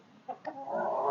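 Hens cluck close by in a few short, throaty bursts that run into a longer, drawn-out clucking call.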